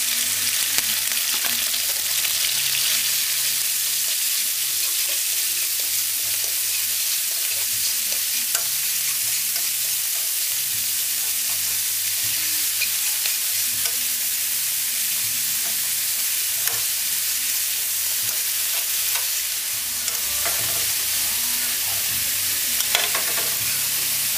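Beef mince frying in oil on a stove at medium-high heat, a steady, dense sizzle that runs unbroken for the whole stretch with faint scrapes of stirring, close and fairly loud, no voices.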